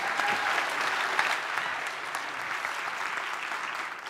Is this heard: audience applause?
yes